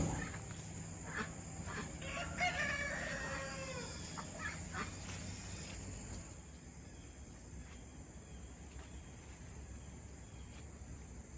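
Chickens and turkeys cluck and squawk in the background for the first few seconds, then fade, leaving a steady outdoor hum.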